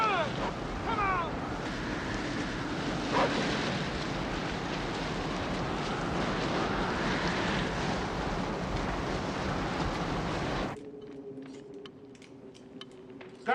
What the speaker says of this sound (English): Mind if we hold up here till the wind blows over?